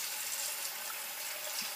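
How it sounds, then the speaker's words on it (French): Tap water runs steadily into a bathroom sink as it fills before a traditional shave, a continuous close hiss with no voices. "Donc je vais remplir mon évier."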